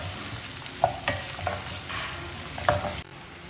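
Chopped onion frying in oil for butter bean biryani, stirred with a few distinct scraping clacks of the spoon over a steady close sizzle, no voices.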